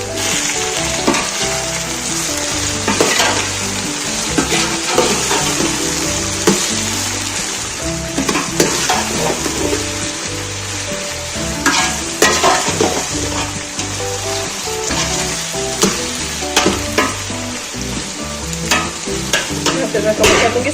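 Okra sizzles steadily in a pan while dry spices are stirred in, with a loud continuous fry broken by scraping, clattering stirring strokes, close up and with no talk.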